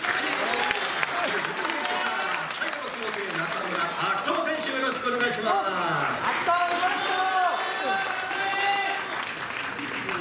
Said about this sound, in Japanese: 一番声援大きかった